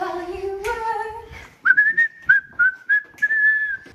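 A man whistles a tune, a series of short clear whistled notes in a bouncy rhythm, close and alone, following a brief sung or hummed phrase.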